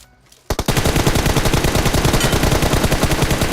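Sustained automatic rifle fire in PUBG Mobile, a loud rapid even stream of shots starting abruptly after a brief quiet moment and continuing without pause.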